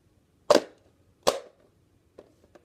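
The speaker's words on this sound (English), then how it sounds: "Let me just get my mag back in." Two sharp plastic clacks, close and distinct, as a magazine is pushed into a Nerf blaster, followed by a few softer small clicks.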